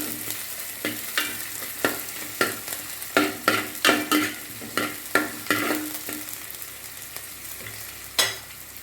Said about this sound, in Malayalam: ഒരു 3 പച്ചമുളക്, നന്നായി വഴണ്ട് വരട്ടെ.